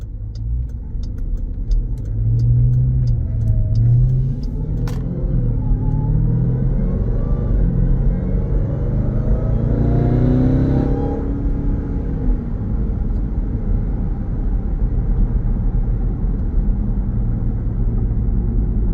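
A 2020 Jeep Grand Cherokee Trackhawk with aftermarket exhaust and intake rumbles steadily while driving, a deep continuous engine drone with a slight rise in the middle, heard from inside or near the vehicle without talk.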